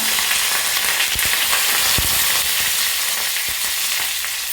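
Mustard seeds and curry leaves splutter and crackle in hot oil for a potato curry, a steady loud sizzle with sharp pops scattered throughout.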